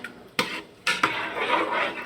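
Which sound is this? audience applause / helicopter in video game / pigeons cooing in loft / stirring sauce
stirring sauce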